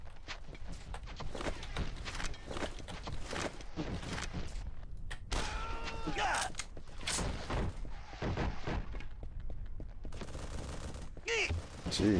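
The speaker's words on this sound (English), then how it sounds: "Who's shooting at me?" Intermittent shots ring out in the game Armed and Dangerous, scattered pops and bursts mixed with footsteps-like thuds and other game effects, some clear whistling tones, and someone talking over parts of it.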